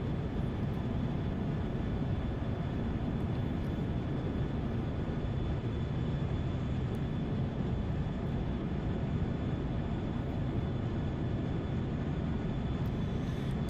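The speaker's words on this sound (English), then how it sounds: "Keep the speed going. Keep the afterburner going." Steady, loud roar of a MiG-21 jet engine running on afterburner in the DCS flight simulator, heard from the cockpit as a constant broadband rumble with a faint whine, unbroken for the whole stretch.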